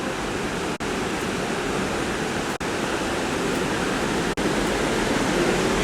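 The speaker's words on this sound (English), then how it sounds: "What a pretty little stream." Water of a small stream in the French countryside pours and splashes in a steady, broadband rush, continuous and fairly close, with no voices over it.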